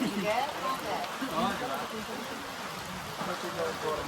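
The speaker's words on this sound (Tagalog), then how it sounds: "Abutan po kami ng ulan. Umulan na." Steady rain hisses over everything at Hiraya Manawari in Norzagaray, Bulacan, with people talking underneath the constant wash of falling water.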